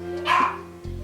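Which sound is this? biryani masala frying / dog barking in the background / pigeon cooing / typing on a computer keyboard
dog barking in the background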